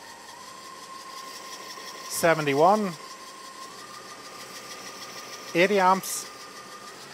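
A car engine runs steadily at a raised idle in a workshop while an alternator is tested, a continuous mid-pitched hum under two short bursts of talk.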